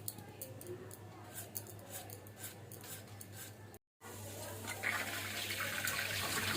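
Gima greens are rinsed under a running kitchen tap. Faint clatter and handling noises come first, then after a brief gap a steady, fairly loud rush of flowing water continues to the end.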